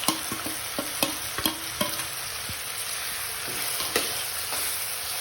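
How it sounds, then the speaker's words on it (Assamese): Chopped onions fry in hot oil in a home kitchen, giving a steady hiss of sizzling broken by sharp clinks and scrapes of a spatula stirring the pan, close by and moderately quiet, with no one speaking. "সেই পিঁয়াজখিনি আমি এতিয়া দি দিম তেলখিনিত তেলখিনি যেহেতু গৰম হৈয়ে আছে সেয়েহে আমি পিঁয়াজখিনি এতিয়া ভালদৰে ফ্ৰাই কৰি ল'ম"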